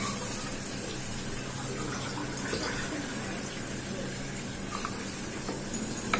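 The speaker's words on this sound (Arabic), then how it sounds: "هنزل عليها بالميه اهو كده" Water poured from a cup onto food grilling in a pan, a continuous rushing, sizzling wash at moderate level that holds steady for several seconds.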